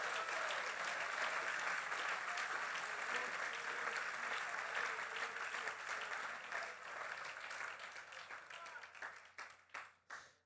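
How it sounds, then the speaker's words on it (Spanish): Congregation applauding during a church sermon, a loud, sustained wave of many hands clapping that gradually thins out into scattered individual claps and fades by the end. "Dele fuerte ese aplauso a Jesús."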